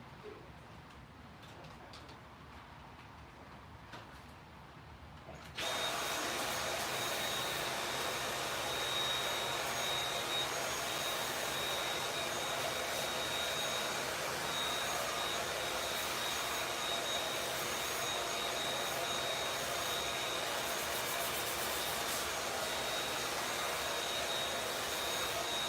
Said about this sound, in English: Dyson, a real man's vacuum.